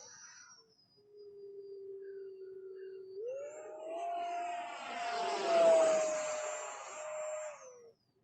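An RC electric ducted-fan F-86 Sabre jet model glides at zero throttle, giving a steady airy whoosh with a whine that rises midway and fades out at the end; no talking.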